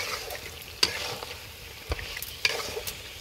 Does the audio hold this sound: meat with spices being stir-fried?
yes